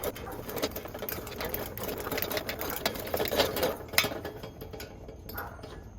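A Coleman Model 220 lantern is pumped up by hand, making a fast, rhythmic run of close mechanical squeaks and clicks that keeps going throughout.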